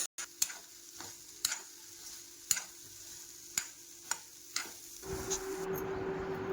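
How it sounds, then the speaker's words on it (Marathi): Fresh okra sautés in oil with a faint sizzle, punctuated by a string of sharp, evenly spaced clicks and taps like a spatula against the pan, before a louder, denser frying hiss swells in at the end. "भेंडी अगदी ताजी होती, तेलामधून छान परतून घेतली"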